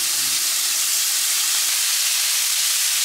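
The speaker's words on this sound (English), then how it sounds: "Those boys are sizzling." Heavily seasoned catfish fillets sizzle while blackening in a hot pan, a steady loud broadband hiss filling the whole clip with no voices.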